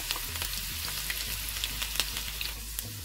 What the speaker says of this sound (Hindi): ऑयल गरम हो गया है। हम पहले इसमें डालेंगे एक लहसुन हमने काटा था छोटा छोटा, वो डाल देंगे। थोड़ी सी प्याज डाल देंगे।